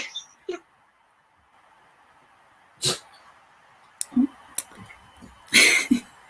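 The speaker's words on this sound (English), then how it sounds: "You can hear my dog again." A dog barking indoors, a few short sharp barks and yips spaced irregularly, fairly close over a quiet background with no speech.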